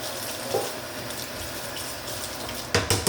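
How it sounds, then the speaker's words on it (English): Tap water runs into a kitchen sink during rinsing, a steady close hiss of flowing water that ends in a few louder splashes and clatters. "Let me rinse this."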